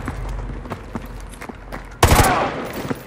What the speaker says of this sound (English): Roach, take the shot. Go for his leg.